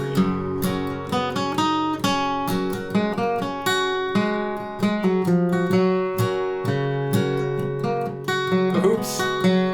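Guitar picking a bluegrass-style rendition of Groundhog, a rapid stream of bright plucked notes over ringing bass strings, played solo and close with a steady driving rhythm.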